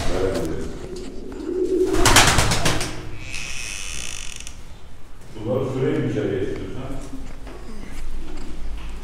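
Mardin tumbler pigeons coo in a loft, low soft calls coming and going close by, with a burst of rattling flutter and some mechanical clicking in between and people talking at times.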